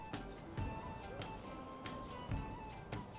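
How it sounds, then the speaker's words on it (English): Horse hooves clip-clop faintly and unevenly in the Manor Lords medieval village-building game, with a few sharper steps standing out over a low, steady ambient bed. "We've got plenty of horses going around to be used."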